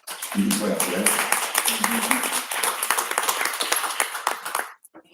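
An audience claps and cheers in a dense, steady burst lasting about five seconds, with voices mixed into the applause before it cuts off abruptly.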